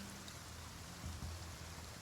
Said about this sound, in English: Maybe this rain is a little loud still.